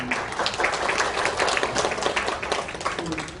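Applause from a seated audience at a National Assembly forum on carbon neutrality and the shift to carbon-free energy, greeting a panel speaker as they are introduced, a steady wash of hand claps with faint talk underneath.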